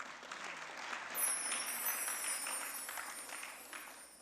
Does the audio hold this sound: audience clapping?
yes